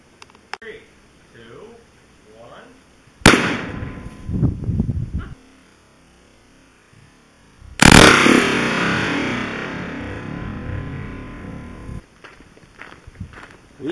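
Explosive seatbelt anchors fire off outdoors: two loud, sudden blasts several seconds apart, each followed by a long rumbling echo that fades. Voices are heard before the blasts.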